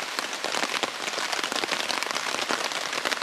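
Steady rain falls in a forest at a camp, a dense, even hiss of drops on leaves and surfaces, close and continuous with no voices.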